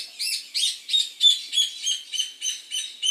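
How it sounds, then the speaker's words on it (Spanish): Small birds chirping close by in a quick, regular series of about nine bright, twittering bursts, with no other sound underneath. "Los pajaritos, qué bonito, estaba escuchando eso."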